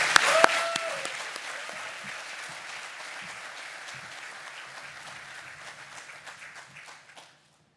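Audience applause breaks out at the opening ceremony of Rocket Lab Launch Complex 3 on Wallops Island, Virginia, starting with a few sharp claps and then swelling into broad, steady clapping that slowly fades away.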